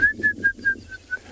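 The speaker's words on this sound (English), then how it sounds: "Hear a bearded woodpecker." A bearded woodpecker calls on a South African safari at sunrise, six clear, evenly spaced high whistled notes in quick succession, fairly near over faint ambient hum.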